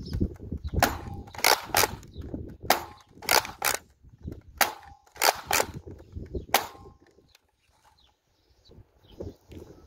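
Modded X-Shot Skins Pro Fury-X blaster firing Dart Zone darts outdoors at long range: a string of sharp, loud cracks in irregular pairs and bursts, then quieter ambience.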